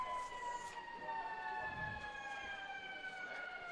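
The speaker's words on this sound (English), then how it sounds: "sometimes you have a siren like that instead of to end the game" A siren wails steadily at a high school football game between Liberty and Pikeview in West Virginia, rising and falling over faint crowd noise and distant ambience. It sounds fairly far off and stays at an even level.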